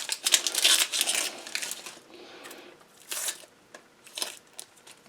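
Crisp crinkling and tearing as the dry outer skin is stripped off a vegetable by hand, several brief rustling bursts close up with short quiet gaps between, no talking.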